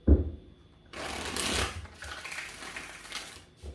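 Tarot cards are shuffled close up in a quick riffling burst, followed by softer sliding and tapping as the deck is handled.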